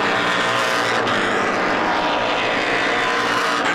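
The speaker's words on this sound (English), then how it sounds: "as you watch the two race cars" Race cars at speed on a NASCAR Pinty's Series racetrack, a loud continuous engine roar with a steady broad rush, sustained throughout without pause.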